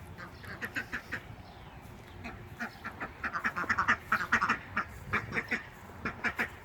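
Ducks roam a spring garden, quacking in quick, repeated bursts at moderate distance, with steady outdoor background noise under the calls.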